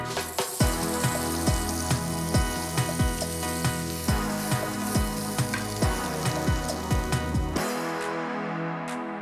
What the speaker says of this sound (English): I'm going to fry the capsicum and onion next, and we just want to cook them until they're caramelized